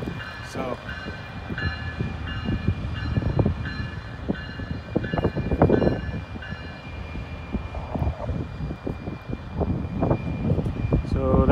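A locomotive rumbles slowly into the shop on a rainy day after the lead unit is cut away, its low engine drone steady and fairly close, with some talk alongside.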